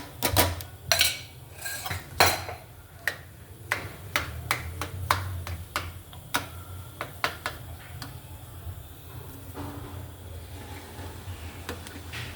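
Boiled carrots for sheera stirred hard in a metal pan, a spoon knocking and scraping against the sides in irregular sharp clacks, close and fairly loud, with no talking.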